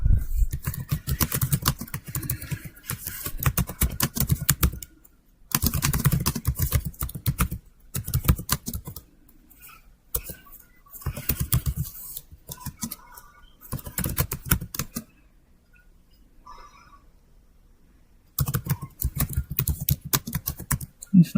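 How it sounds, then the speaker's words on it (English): Quick, steady keystrokes on a computer keyboard in bursts separated by short pauses, close and clear with no one talking. "just let me get this typed out"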